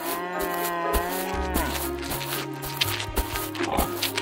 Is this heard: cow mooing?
yes